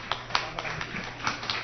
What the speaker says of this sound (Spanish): vamos a darle un aplauso y felicidades